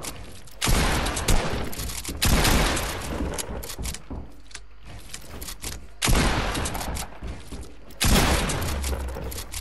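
Video game gunfire in a one-on-one fight: four loud bursts of rapid shooting, each a few seconds apart and followed by quieter rattling, with almost no talk.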